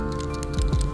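A small sensor part from a Yamaha MX King 150 is shaken close to the mic, giving a loose rattle with a couple of louder knocks near the end.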